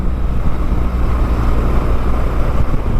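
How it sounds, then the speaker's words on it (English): An old BMW Boxer-engined motorcycle pulls hard in fifth gear, a loud, continuous low engine drone mixed with wind and road roar and no pauses. "Just the grunt of the old Boxer engine."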